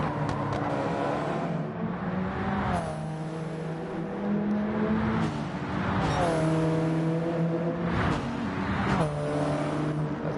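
Racing car engines roar continuously in a racing video game on the Seaside Dragon Trail circuit, with an Alfa Romeo and Lexus cars among the pack, pitches rising and dropping through gear changes as several cars pass close together.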